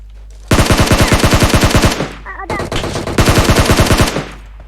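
Automatic gunfire in the video game PUBG Mobile, two loud, close rapid-fire bursts of evenly spaced shots separated by a brief lull.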